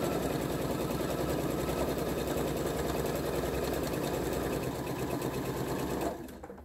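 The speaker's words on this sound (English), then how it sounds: "So now I'm going to backstitch." Sewing machine backstitching quilt pieces for a dresden plate, with a continuous fast stitching rattle at close range that stops abruptly near the end.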